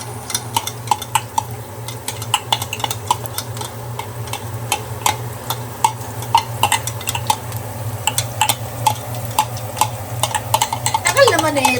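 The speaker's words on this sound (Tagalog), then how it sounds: "Haluin lang natin. Gisa-gisa lang." Garlic being stirred and sautéed in a pot for arroz caldo, a steady run of quick spoon ticks and scrapes against the metal over a constant low hum, with a faint sizzle and talk underneath.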